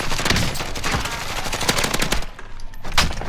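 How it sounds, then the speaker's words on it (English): Dense automatic gunfire in the video game Call of Duty: Modern Warfare Warzone crackles in loud, close, rapid bursts across the whole stretch, easing briefly before another volley, with no voices. "I was getting shot from the green building probably"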